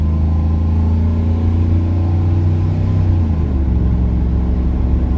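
An LS-swapped Chevrolet K1500 pickup truck engine holds a steady, loud revving drone near 3,500 rpm, its low rumble continuous and close with a slight pitch shift partway through, no voices over it.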